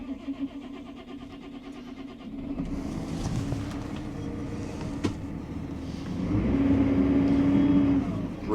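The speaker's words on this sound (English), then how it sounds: "Revs up when you lift the loader arms." A compact tractor engine runs steadily nearby, its note rising and getting louder partway through as the loader arms lift, then holding at the higher revs.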